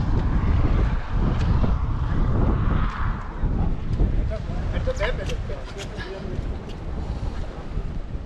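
Wind buffeting a cyclist's microphone on a hilly road ride, a loud continuous low roar that runs throughout with brief faint clicks near the end.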